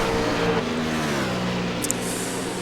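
Engines of rival GT race cars in the iRacing sim at Circuit Gilles-Villeneuve, heard as a steady, tonal engine drone with shifting pitch that runs throughout, with no talking.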